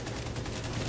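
Gunfire in The Division 2, a dense continuous rattle of rapid shots, loud and close, lasting under a second with no pauses.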